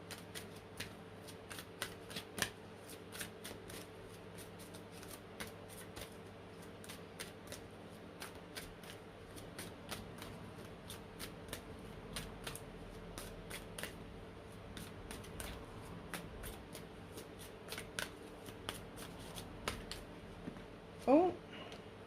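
A deck of energy cards is shuffled in quick, soft riffling bursts that repeat at irregular intervals, close and fairly quiet, against a low background hum.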